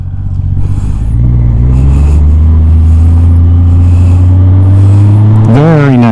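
A 1991 Honda Goldwing GL1500 motorcycle towing a trailer rounds a tight corner, its loud, close engine droning steadily with gentle pitch shifts and a quick rev near the end, while wind noise buffets in the background.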